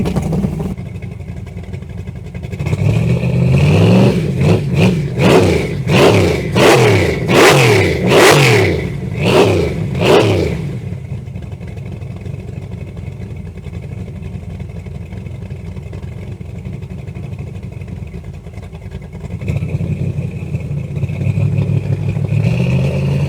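A 394 stroker V8 car engine revs hard about eight times in quick succession, each blip roaring up and falling back, then settles into a rough idle.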